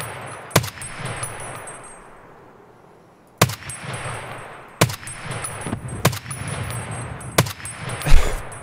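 RSASS marksman rifle firing in Escape From Tarkov, heard as about six sharp, loud shots at irregular intervals, each with a ringing, echoing decay over quiet ambient background.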